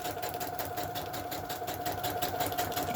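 Sewing machine running a steady straight stitch around parchment paper being made into a pocket, a continuous fast motor whir with rapid needle pulsing, close and even throughout.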